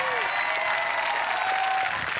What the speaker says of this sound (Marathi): जोरदार टाळ्या ऐश्वर्या सोनारसाठी झाल्या पाहिजेत